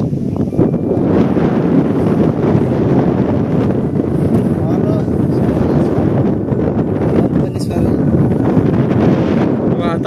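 Strong wind on a hilltop at Dandoba Hills in the Sangli–Miraj area of Maharashtra, buffeting the microphone in a steady, loud, unbroken roar across the whole stretch, with a voice faintly mixed in.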